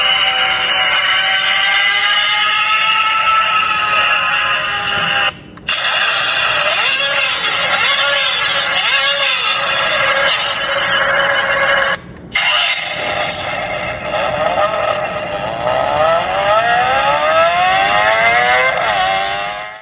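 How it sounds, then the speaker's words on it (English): A car-shaped alarm clock plays a hypercar engine exhaust sound: a loud, continuous engine roar with rising and falling revving pitch, broken by two brief gaps as the sound switches, with no talk. "Press the steering wheel inside the car to switch the exhaust sound."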